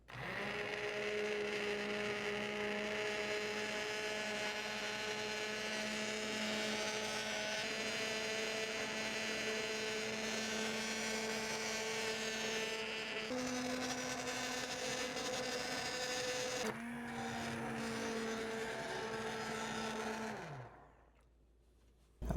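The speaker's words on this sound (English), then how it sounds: "now we're going to use our immersion blender" An immersion blender pureeing butternut squash soup with coconut milk, a steady whining motor hum that drops in pitch twice as the load changes, then cuts out near the end.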